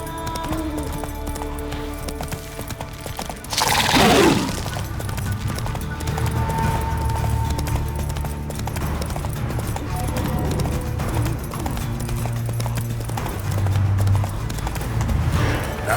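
Roach the horse gallops in The Witcher 3, with steady rhythmic hoofbeats throughout, a whoosh around the four-second mark, and faint game ambience underneath.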